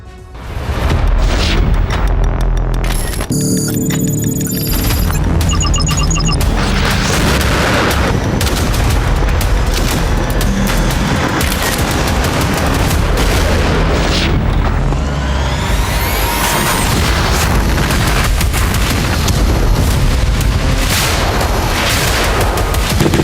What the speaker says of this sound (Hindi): कुर्स्क में हर धमाके के साथ क्रेमलिन में मच रही है हलचल।